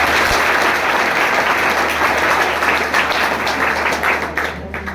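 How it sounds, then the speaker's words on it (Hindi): Loud crowd applause welcoming a guest at a coaching institute event, a dense continuous burst of clapping that gradually thins out near the end. "एक बार जोरदार ताली से स्वागत कर दीजिए"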